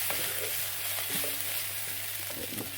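Roughly diced vegetables sweat in a pan for sweetcorn chowder, a soft steady sizzle with a few scraping stirs of a spoon, close and fairly quiet.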